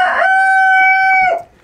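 A chicken crows loudly and close by on a farm with free-ranging ducks, one long sustained cock-a-doodle-doo call that ends abruptly.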